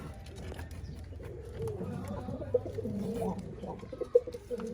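A female pigeon sitting on a nest with two newly hatched chicks gives soft, low, rolling coos. They are close but quiet, with a voice talking over them.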